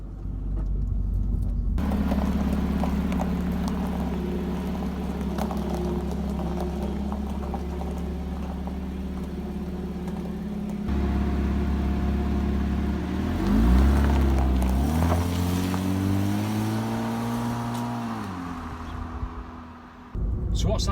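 Porsche car on the move, a steady engine drone with low rumble running throughout, rising in pitch as it revs and accelerates midway before settling again, heard from close by with no talking.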